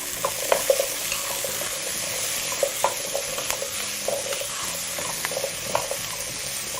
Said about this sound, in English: Now this will be sauteing for anywhere between 4 to 5 minutes just to give them a bit of color.